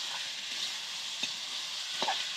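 Frying chicken sizzles steadily in a freshly uncovered pan with oil seeping at the sides, while a spatula stirs it in a few soft scraping strokes, close and low in level with no voices.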